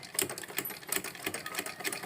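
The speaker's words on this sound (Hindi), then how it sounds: "राउंड शेप में हम सिलाई दे देते हैं" A sewing machine stitches a round seam on a patiala salwar, a faint, quick, rapid ticking run of stitches heard close and alone.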